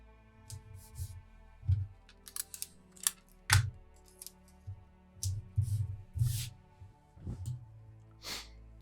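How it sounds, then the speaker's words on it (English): Sheets of paper for a knitting machine cover being taped together and cut out, with scattered close crinkles, tape pulls and scissor snips in irregular bursts separated by quiet pauses. "tape it together and cut it out"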